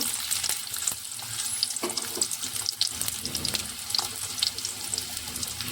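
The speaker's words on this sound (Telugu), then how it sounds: "ఇప్పుడు ఇందులో మనం చిన్నగా కోసుకున్న ఉల్లిపాయలు అయితే వేసుకుంటున్నాను" Chopped onions hit hot oil in a pan for mutton curry, giving a steady close sizzle and hiss with occasional stirring scrapes. No one talks.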